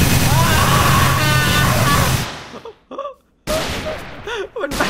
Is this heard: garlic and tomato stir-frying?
no